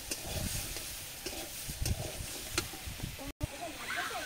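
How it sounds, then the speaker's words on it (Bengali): Potatoes hit a frying pan for a fish curry and sizzle softly, a low steady hiss with scattered crackles and stirring clatter, while a voice talks over it. "এবার এতে আমি আলুগুলো দিয়ে দেবো।"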